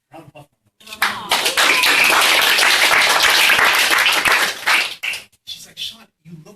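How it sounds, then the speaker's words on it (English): Loud, dense audience applause bursts in and holds for about four seconds at a celebration showcase in a Google community space, then breaks off into scattered voices and a few stray claps. "My mom, round of applause."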